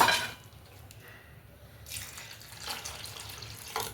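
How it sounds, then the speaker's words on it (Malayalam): Water poured into a pot of simmering Karkidaka rice gruel, heard as a few faint splashes and trickles in a quiet kitchen, with no talking. "ഇനി കുറച്ചും കൂടി വെള്ളം ഒഴിച്ചു കൊടുക്കാം നമുക്ക്"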